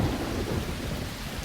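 Heavy rain with low rumbling thunder during a boat trip in Panama, a dense, loud wash of noise throughout with no voices.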